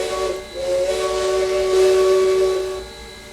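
Steam locomotive whistle of East Broad Top No. 14, simulated in the TRS19 train game, sounds one steady, moderately loud hissing blast for a few seconds, swelling slightly before tapering off, with no talk.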